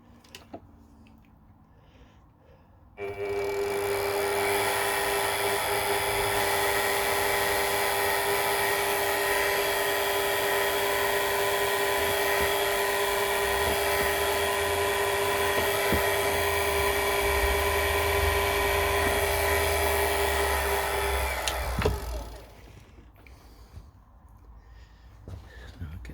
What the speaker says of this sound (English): let's get the centre drill in. And we'll drill, get that in position.